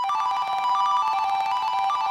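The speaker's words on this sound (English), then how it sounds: "a preset that sounds like this, it's basically just a sine wave with some effects." An arpeggiated synth preset built from a sine wave with effects, made in FL Studio, ripples in quick, bright repeating notes at steady moderate loudness with no talk.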